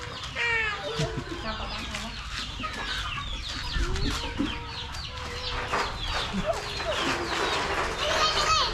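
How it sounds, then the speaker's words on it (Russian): Chickens cluck around a village in Cambodia, short clucks and chirps scattered through a busy outdoor ambience, with faint voices in the background. "Тут куры у них."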